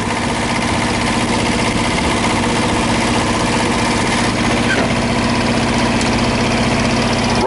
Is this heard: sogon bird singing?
no